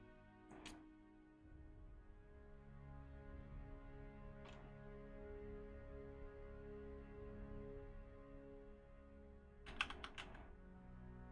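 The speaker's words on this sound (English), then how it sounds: "You know when you just push random keys on your board to see if they make sounds?" Random keys tapped on a computer keyboard, a few sparse, sharp clicks spread over several seconds, faint against a steady low hum and tonal background.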